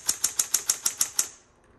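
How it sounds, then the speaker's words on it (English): A 1970s Smith Corona Electra 210 electric typewriter types eight crisp, evenly spaced keystrokes in a quick steady rhythm, close and clear, then falls quiet. "this typewriter types like it's brand new"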